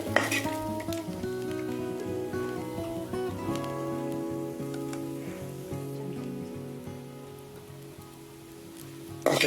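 Ingredients being dry-roasted in a pan over a wood-fired clay stove until they turn black, with steady sizzling and scraping of a utensil against the metal and no voices.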